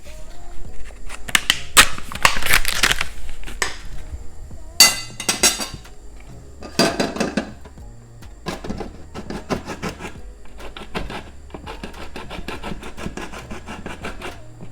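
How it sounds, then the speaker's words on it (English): A block of Parmesan cheese is grated by hand, producing loud, close rasping strokes in irregular bursts with occasional clinks of the grater, and no voices. "So the first thing I'm going to do is grate this cheese."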